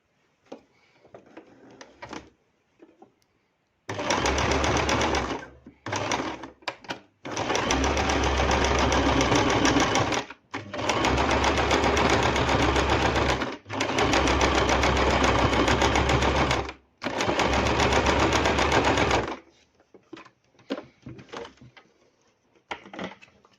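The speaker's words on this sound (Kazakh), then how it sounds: "жақсылап бекітіп тігіп алу керек" A sewing machine stitches a flared skirt in loud, fast runs of several seconds each, separated by short pauses with quiet handling sounds of fabric between bursts.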